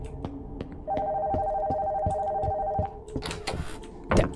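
A telephone rings inside a video game house, one steady electronic ring tone lasting about two seconds over rhythmic thudding footsteps, followed by scattered clattering sounds.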